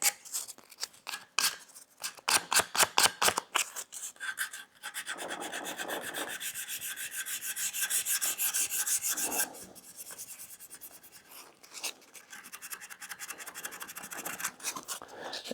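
Wooden drawer pull sanded by hand with sandpaper, starting with quick rasping strokes and then moving into longer continuous scratchy rubbing, close and fairly quiet, with no voices.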